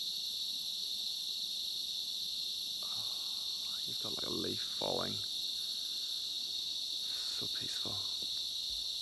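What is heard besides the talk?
crickets chirping at night on Bohol Island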